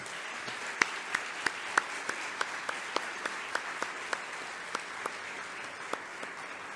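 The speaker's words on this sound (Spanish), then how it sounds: "Recibamos con un aplauso a la doctora Rosa María Torres Hernández." Light applause welcoming a speaker at a national teachers' meeting, sparse and quiet clapping with distinct individual claps in a slow, irregular rhythm over a soft background murmur.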